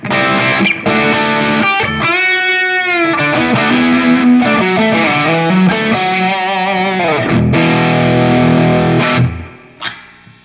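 Electric guitar played through a Big Joe Empire Dual Overdrive pedal with moderate, thick gain, loud sustained chords and bends across the phrase, then dropping away into a brief decay and a last pick hit.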